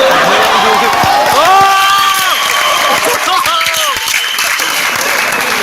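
Audience of boys cheering and clapping loudly at a comedy show, dense sustained applause with whoops and shouts throughout, a crowd close and energetic.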